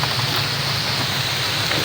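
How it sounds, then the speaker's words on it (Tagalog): Steady rain hisses evenly, a dense wash of drops with no pauses and no voices. "ulan dyan"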